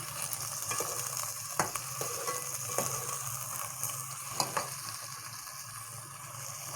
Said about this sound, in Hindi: चिकन के साथ ही इसे थोड़ा सा फ्राई करूँगी।